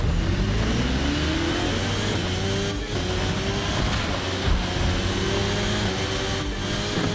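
MV Agusta F4 RR motorcycle engine in the racing game The Crew 2, revving loudly and steadily as it accelerates, rising gear-by-gear pitch sweeps with brief dips at shifts, no talking.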